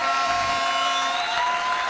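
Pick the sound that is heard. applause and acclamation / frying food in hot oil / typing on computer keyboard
applause and acclamation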